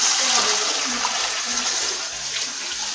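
Water pours steadily into a large cooking pot for chicken pulao, a continuous close gushing splash with no talk over it.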